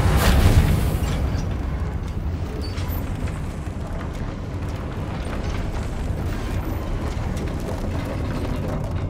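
Confringo, an explosive spell in Hogwarts Legacy, bursts with a loud booming blast at the start, then trails into a long, steady crackling rumble that fills the rest of the stretch.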